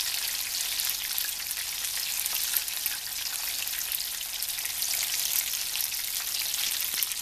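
Macaroni and cheese bacon appetizers fry in a pan with a steady, dense sizzle and crackle, close and continuous, with no talking.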